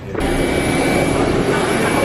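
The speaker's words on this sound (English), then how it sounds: "We're on the plane." Steady, loud roar of an airliner cabin in flight from Leeds airport, a continuous engine and airflow drone that fills the whole stretch with a faint high whine above it.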